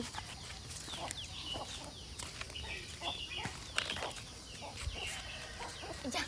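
Chickens clucking at moderate distance, several birds giving short irregular calls over a quiet outdoor background.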